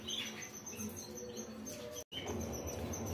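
Canaries in a breeding cage chirp and tweet continuously, bright overlapping calls close by, with a brief cut of silence near the end before the chirping resumes.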